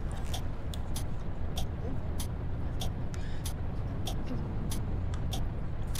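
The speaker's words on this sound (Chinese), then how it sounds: "这三款范霍尔给我的感觉都是发动机声音做的太小了" Van Hool one-and-a-half-deck coach engine in a long-distance bus simulator game, a steady low rumble heard from inside the cabin, with evenly spaced sharp clicks over it.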